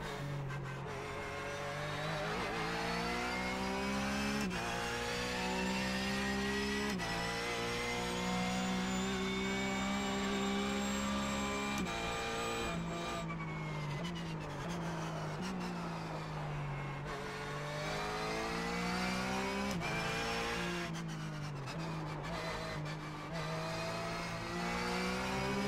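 A Porsche Cup race car engine in the iRacing simulator at Sebring screams continuously, rising and falling through upshifts and downshifts as it laps, loud and close with no talk.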